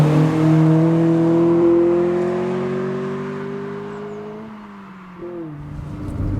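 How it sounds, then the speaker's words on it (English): Mark II Honda CRX 1.6Vi VTEC engine, loud and close, revving up in steady harmonic sweeps as it pulls through the gears, easing off near the end and then picking up again. "This is a Mark II Honda CRX"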